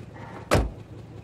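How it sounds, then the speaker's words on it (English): A car door slams shut in a single close, heavy thud, short and loud against a quiet background. "Close the door."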